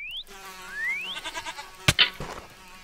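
Goats in Minecraft bleating and squabbling, with rising synthetic cries, a wavering bleat, then two sharp loud impacts near the end, close and clear without talk.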